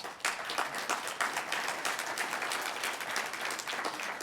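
Steady applause from a banquet crowd at a coastal fundraising gala, many hands clapping evenly and moderately loud, heard alone for the whole stretch.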